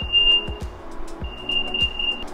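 An Apple AirTag item tracker plays its locating chime, a steady high tone held in two stretches with brief gaps, quiet and close, over low thumping background noise and no speech.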